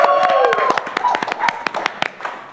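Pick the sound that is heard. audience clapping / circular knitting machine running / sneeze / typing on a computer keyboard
audience clapping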